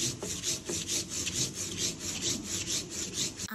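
Spices are ground by hand for a masala in quick, rhythmic back-and-forth rubbing strokes, close and steady with no talking.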